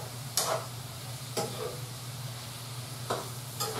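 Pancetta and garlic sizzling in a pan for an artichoke pasta appetizer, a soft steady hiss broken by three sharp spoon-against-pan clinks spaced about a second or two apart.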